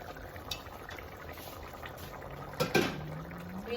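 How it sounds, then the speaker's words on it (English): Chicken afritada stew bubbles at a steady boil in a pot, with soft continuous gurgling and a few louder pops and bursts near the end, heard close by. "So now that it's really boiling"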